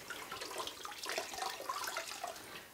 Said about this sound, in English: take a white rag, and I've got one right here. Let it get wet in the bleach water